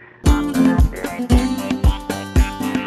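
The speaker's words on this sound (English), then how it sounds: "you had one of those horns that you squeezed like this one right here" Several loud, blaring honks from a squeeze bulb horn come in short bursts, each a brassy reed-like squawk, close by and uneven in rhythm.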